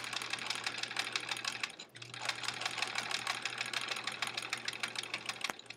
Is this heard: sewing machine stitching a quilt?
yes